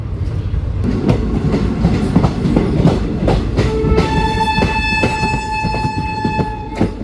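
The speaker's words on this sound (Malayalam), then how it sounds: "നമ്മുടെ ശബരി എക്സ്പ്രസ് അതിലൂടെ പോകുന്നുണ്ട് കേട്ടോ, സെക്കന്ദരാബാദ് തിരുവനന്തപുരം" The Sabari Express, a Secunderabad–Thiruvananthapuram train, rushes past on an adjacent track, with loud continuous rumble and rhythmic clickety-clack of wheels, and a sustained horn-like tone in the second half.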